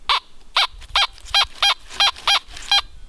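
Metal detector chirping over a target at a 1700s colonial cellar site, a series of eight short, evenly spaced high-pitched chirps, close and loud, with no talk.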